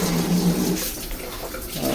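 A hotel spa style shower head sprays water in a steady hissing rush with a gurgling low undertone, continuous and close, weakened by low water pressure.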